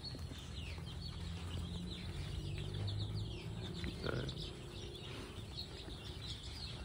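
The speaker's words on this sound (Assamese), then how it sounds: "এই লোকেল মুৰ্গীৰ পোৱালি আছে" Local desi chicken chicks in a farmyard setting chirp and cluck faintly and continuously, with a brief sharper call partway through over steady background noise.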